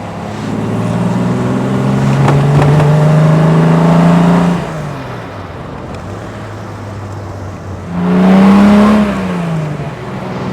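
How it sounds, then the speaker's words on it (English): A 1958 AC Bristol Roadster engine revs up and holds a rising drone, eases off to idle, then revs again with a throaty growl. "perfect sound of an English car, just enough power"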